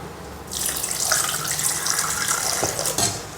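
Water is poured into a bowl of soaked pearl millet while making kambu koozh, a close, bright splashing stream that starts abruptly and runs steadily for a few seconds.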